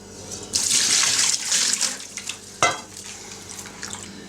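Lime-soaked water is poured off hawthorn fruit being prepared for jam, making a splashing, gurgling pour with one sharp knock partway through.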